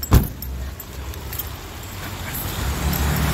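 Car keys jangle in a brief bright metallic burst near the start, then low rumbling car and road noise continues steadily beneath, rising slightly toward the end; no talking.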